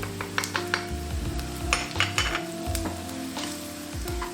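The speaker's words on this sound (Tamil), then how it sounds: "இப்போ அந்த பூண்டு நசுக்கி வச்சு இதை போடுறோம். அதுக்கப்புறம் மிளகாத்தூளை போடுறோம்." Crushed garlic and chili powder frying in a pan while cooking a Tamil potato fry, a bright crackling sizzle broken by repeated scrapes and clinks of a metal spoon stirring against the pan, close and clear.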